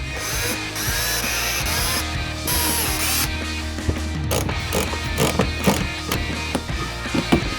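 Ratchet clicking in quick repeated bursts while nuts are tightened on fender flares during a pod light install, close up, with some background music or hum underneath.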